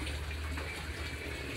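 Water runs steadily into or out of a catfish farming tank during washing, a continuous broadband gush and splash that holds at even strength throughout with no voices.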